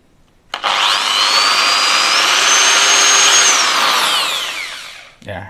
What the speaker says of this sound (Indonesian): Ini pakai bor boleh, tinggal dilubangin seperti ini.